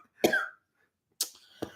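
Three short dry coughs from a person stifling a coughing fit: a fuller first cough, then two sharp quick ones about a second later, close to the microphone with silence between.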